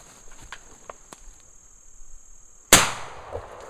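A single loud shotgun blast hits a homemade chalk clay target outdoors after a quiet stretch of faint insect chirping and small rustles, with the report decaying quickly back into the ambient background.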